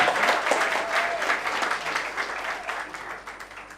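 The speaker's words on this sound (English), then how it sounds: "We agreed we clap for them until they reach." Steady crowd applause at a school debate academy award ceremony for a storytelling runner-up, dense and fairly close, slowly tapering over a few seconds with no talking.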